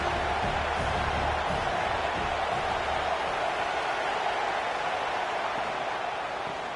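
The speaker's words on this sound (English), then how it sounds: "Listen to the crowd energy here in the early going." A football stadium crowd keeps up a steady, dense roar throughout, with no clear peaks or cheers breaking through.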